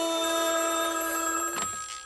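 A telephone rings with a steady electronic bell tone held for about a second and a half, then cuts off into a brief burst of noise, close and fairly loud with no talking.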